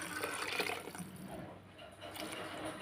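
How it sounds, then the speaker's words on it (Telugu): Water is poured into a pot of rice as a soft, continuous gushing splash, close and fairly quiet, with no voices. "ఈ బియ్యం మునిగేంత వాటర్ పోసుకోవాలండి."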